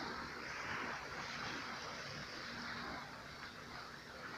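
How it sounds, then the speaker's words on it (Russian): Steady surf rolls onto the shore of the sea on an evening near a beach campfire: a continuous, even wash of broadband noise at moderate level throughout, with no speech heard. "Море шумит."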